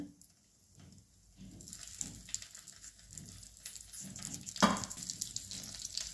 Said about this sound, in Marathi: आता बघा तेल गरम झाले, ह्यातच आपण आता ही वांगी सोडूया।